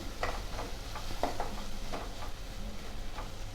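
Tamarind being stir-fried in a pan for a Marathi ridge gourd (gilke) bhaji: a few quick scraping stirs over a soft, steady sizzle, close and without talk.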